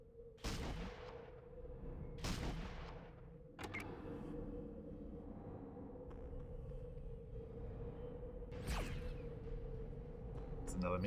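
Gunfire in the video game Fallout Tactics: a few sharp, spaced shots, each ringing off with a short decaying tail, over a low steady hum.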